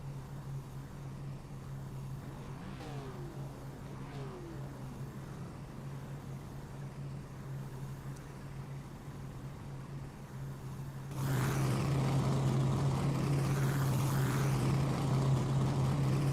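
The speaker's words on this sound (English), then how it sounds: "There are our drivers here getting ready to roll off behind the pace car." Race cars roll off behind the pace car at Atlanta Motor Speedway in a steady, distant engine drone that swells noticeably louder partway through, with no talking.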